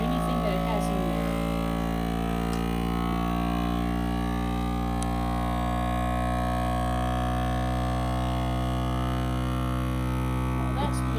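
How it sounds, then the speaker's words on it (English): A small electric vacuum sealer pump drones steadily with a constant buzzing hum, drawing air from a canning jar of dry food, running without pause throughout. "You're going to hit vacuum seal, and it's going to suck out any air"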